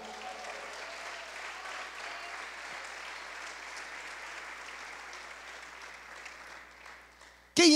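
A church congregation applauding together, a sustained wash of clapping that holds steady across the space, then fades near the end.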